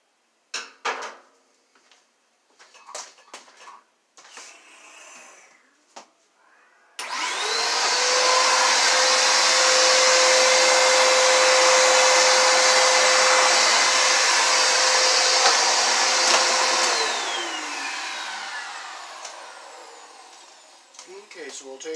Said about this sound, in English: we'll take a vacuum cleaner and we'll get our little burrs out of here